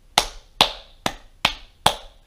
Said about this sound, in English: I freak out and I clap as loud as I can